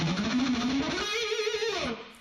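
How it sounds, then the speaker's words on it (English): Fast-picked heavy metal blues riff on electric guitar, a rapid run of distorted notes climbing and then bending up before cutting off, played alone. "the most interesting guitar thing in the song is the fast picking part that sounds something like this."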